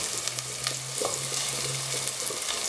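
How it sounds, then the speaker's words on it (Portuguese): Garlic and onion sizzle steadily in a hot pan, a close, constant frying hiss with a few scrapes and stirs of the spoon and no speech. "Tô refogando alho e cebola."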